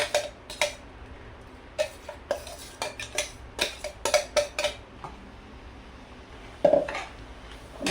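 A spoon clatters and scrapes against a metal pot while grated coconut is stirred into boiling milk, with irregular sharp clinks and knocks over a low simmering bed, one louder clank near the end.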